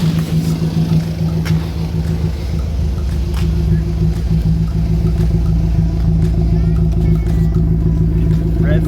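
A 2005 BMW Z4 engine with a straight-through exhaust, no back box, idles and revs in a steady, loud, low rumble that stays close and continuous throughout, with no talk over it.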